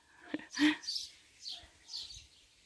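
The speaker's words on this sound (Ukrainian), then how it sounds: "Прилітають дві пташечки і по черзі їх годують." A few short, high chirps from small birds at a low nest in a village garden, close by, coming in brief bursts with quiet gaps between them.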